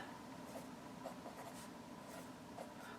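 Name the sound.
writing out a matrix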